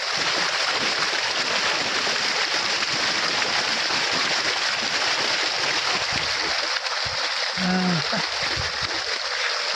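Loud, steady rush of warm water pouring close by from a pipe, continuous for the whole stretch with a few brief splashy bursts near the end.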